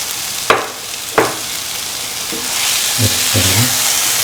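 A spinach stew with cottage cheese pieces is stirred in a pan, giving two sharp knocks of the spoon on the pan followed by soft scraping and a low sizzle, close and fairly loud, with no talking.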